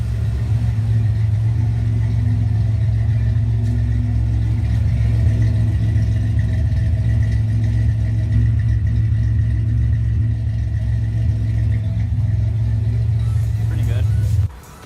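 A 1995 Chevrolet Camaro sits idling with a deep, steady exhaust rumble that holds constant and close for about fourteen seconds before cutting off abruptly.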